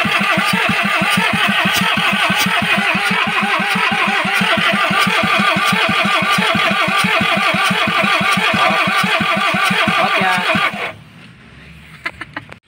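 A Kia 4x4 engine cranks steadily and rhythmically for about eleven seconds without catching, loud and close, then cuts off, leaving faint clicks and quiet.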